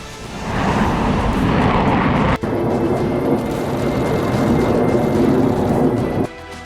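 An F-35 fighter jet roars overhead with a loud, steady broadband rumble that holds for several seconds, breaking off briefly before continuing, with no voices.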